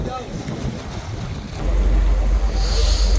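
Strong wind roars across the deck of a moving trawler on the Bhadra river, a steady rushing buffet that swells louder midway, with the engine and water rumbling beneath.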